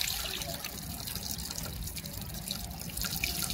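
Water pressure sprays over a Ulefone Armor 15 rugged phone during an outdoor IP68 test, a steady hissing, splashing stream that continues throughout without pause.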